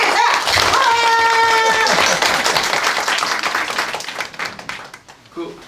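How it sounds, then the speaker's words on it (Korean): An audience at an international symposium on a salamander species breaks into applause, loud dense clapping that swells then tapers and scatters away, with voices and a brief tone over the start. "한번 박수"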